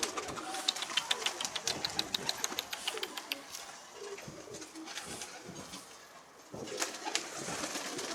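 Pigeons coo steadily at a loft of runaway and novice birds, a busy layered flock sound with soft rapid flutters and clicks, moderately close and continuous, dipping briefly before swelling again.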